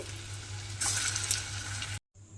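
Koftas made from snake gourd frying in hot oil in a Bengali vegetarian kofta curry, a steady close sizzle that swells louder partway through, then cuts out abruptly before resuming briefly.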